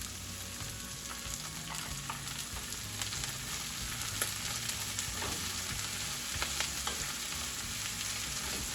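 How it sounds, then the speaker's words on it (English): Kale, cabbage and broccoli sizzle and crackle in a hot pan for a vegan pad thai, a steady frying hiss with intermittent stirring scrapes and pops, close and alone without speech. "Now I'm adding my mixture of kale, cabbage, and broccoli."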